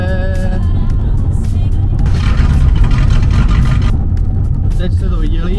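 A Citroën C4 with no rear exhaust mufflers idles and revs, its engine loud and rough up close, with a person talking over it.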